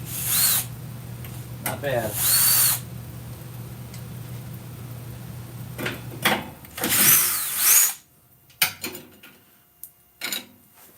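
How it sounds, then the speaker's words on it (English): Power tools whine in short loud bursts while working on an antique washing machine during a belt change, with a steady low hum between bursts and a brief spoken remark near the end. "I'm going to try and do this with power tools."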